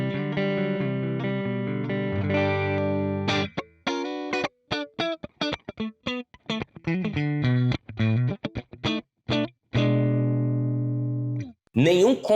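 Electric guitar played through a distorted, bright amp model on a Valeton GP-5 multi-effects unit, with sustained chords giving way to choppy staccato stabs with abrupt silences, then a final ringing chord.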